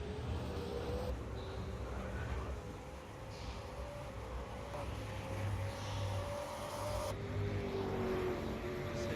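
Ford Mustang V8 race cars from a racing league round at Bathurst in a racing video game, a steady droning engine note sustained throughout with rising pitch, fairly distant and moderately loud.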